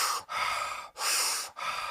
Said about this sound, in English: Slow but deep fire breathing.